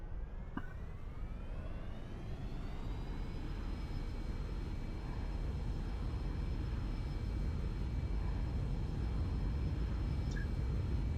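Cirrus SF50 jet engine spooling up for takeoff in X-Plane 11, a steady roar with whining tones that climb in pitch during the first few seconds, then hold level and loud.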